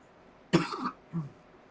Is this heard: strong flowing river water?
no